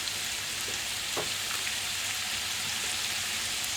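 Garlic frying in a pan alongside fennel sausages and lemon potatoes, a steady soft sizzle and crackle that holds evenly from start to end, with a few faint light taps over it.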